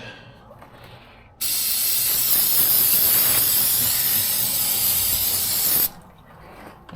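Rust Check rust-proofing coating sprayed onto a truck frame as a single loud, steady hiss lasting about four and a half seconds, close up, with quieter workshop background before and after.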